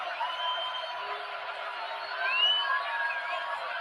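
Stadium crowd at a 2007 college football game between Boston College and Notre Dame, a broad sustained roar of cheering with whoops and a swell near the end.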